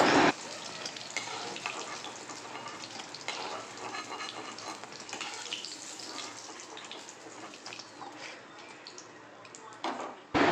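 Pointed gourd pieces fry in hot oil with a continuous dense sizzle and crackle, close up, as they are lifted out of the pan, with a speaking voice heard over the frying.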